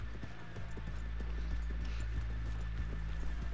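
Horse hooves in Red Dead Redemption 2 clip-clop in a steady walking rhythm on hard, freshly rained-on ground, close by, over a low rumbling background.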